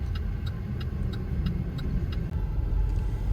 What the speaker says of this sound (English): you see all this traffic